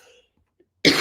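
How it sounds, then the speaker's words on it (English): A single short cough at the end, loud and close, after a moment of near silence and a brief murmur of voice at the start. "Sorry for this cough."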